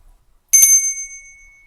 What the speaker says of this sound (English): Another friend gave me this old owl bell she found.